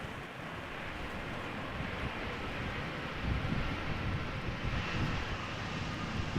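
A crosswind airliner arrival at Amsterdam Schiphol: a broad, distant jet engine roar mixed with gusting wind, slowly growing louder as the plane approaches, with no talk.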